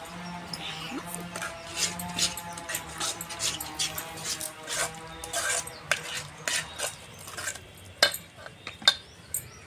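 Fine salt being mixed into food by hand or spoon, producing a steady run of soft scraping and stirring clicks with occasional sharper taps against the vessel, close and moderately quiet.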